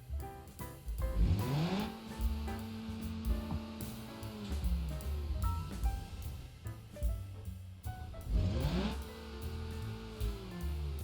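A BeamNG.drive game car engine with a sport exhaust revs up repeatedly through gears, rising whines falling away at each shift, with crackling pops between pulls.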